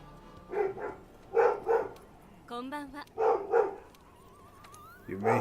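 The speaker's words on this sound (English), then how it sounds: "What a wonderful time for my dog to be angry at the dogs from below" A dog barks angrily in short, loud bursts close by, with whimpering yips between them, while someone talks over part of it and game music plays underneath.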